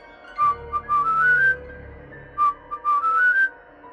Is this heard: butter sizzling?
no